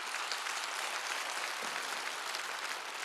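Congregation applause at a Korean Wednesday church service, a dense, continuous patter of many hands clapping at an even level throughout, with no speech on top.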